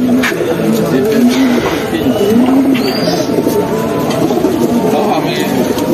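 Pet pigeons kept for sale coo in low, repeated throaty rolls close by, a steady background of murmuring birds under someone talking.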